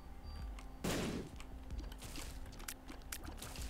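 A bomb goes off in The Binding of Isaac: Afterbirth+, one sudden loud burst about a second in that fades quickly over steady game music and small effects.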